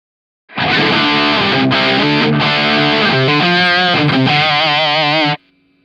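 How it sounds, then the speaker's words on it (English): A high-gain distorted electric guitar through a Marshall amp and a 4x12 cabinet plays a sustained lead phrase with bends and vibrato, drenched in reverb, then cuts off leaving a faint hum. "I just cranked up the gain on the Marshall, put on some reverb on Logic"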